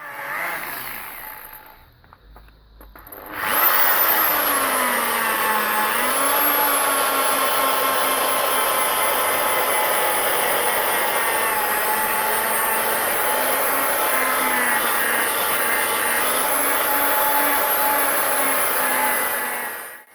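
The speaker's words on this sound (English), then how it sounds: "drill polish the headlight on a medium RPM and apply medium pressure" An electric drill spins a polishing pad at medium speed with medium pressure across a car's plastic headlight lens, using a Mothers restorer. A steady, loud whirring drone starts after a short, quieter rustle and holds evenly to the end, with slight pitch wavers.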